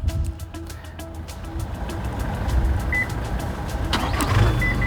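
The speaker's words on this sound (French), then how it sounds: "Et le véhicule démarre." A Mazda BT-50 pickup's engine starts remotely from the key fob, a low rumble swelling beneath a few short electronic beeps and faint clicks, heard nearby outdoors.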